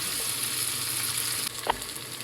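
Onions and bacon sizzle in a pan for quiche, a dense continuous frying hiss with a brief scrape of stirring partway through, no talk.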